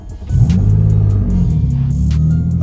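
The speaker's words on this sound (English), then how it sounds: "All right, let's start it up." A custom 2009 Nissan Maxima cranks and fires up: a brief starter whir, then a loud, steady close-up engine rumble at idle with faint clicks above, nobody speaking.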